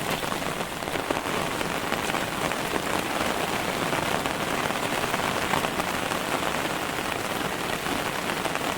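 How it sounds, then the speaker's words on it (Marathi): Monsoon rain pours steadily nearby in a dense, even hiss of drops on the ground and surfaces, with no break and no voices. "हे बघा पाऊस पडता आणि आता छत्री"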